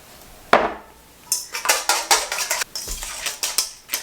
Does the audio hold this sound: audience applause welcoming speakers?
no